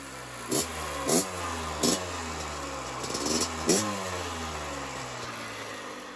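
A Kawasaki KX85 dirt bike engine with stock pipe and muffler idles and revs in several sharp bursts, each throttle blip rising and falling in pitch, fairly close and alone.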